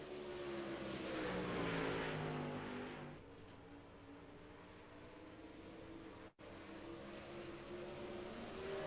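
Modified race car circling a dirt track at Bristol during practice laps, a steady loud engine drone that rises and swells for a few seconds, then settles into a constant mid-distance roar.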